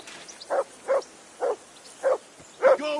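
Repeated barking from a dog in Kingdom Come: Deliverance, five steady woofs spaced about half a second apart, the last one louder and closer.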